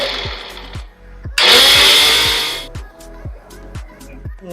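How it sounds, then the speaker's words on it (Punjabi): An electric kitchen grinder whirs loudly for about a second and a half while grinding homemade hair oil ingredients with a little coconut oil, set between quieter stretches of clinking and handling sounds. "ਥੋੜਾ ਜਿਹਾ ਇਹਦੇ ਵਿੱਚ ਨਾਰੀਅਲ ਦਾ ਤੇਲ ਪਾ ਕੇ ਹੀ ਇਹਨੂੰ ਆਪਾਂ ਗ੍ਰੈਂਡ ਕਰਾਂਗੇ"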